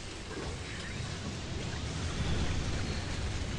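Lightning strikes rumble as thunder amid steady rain-like hiss in the tower defense video game Tower Conquest, a dense, low, continuous roar that swells slightly toward the end with no talk.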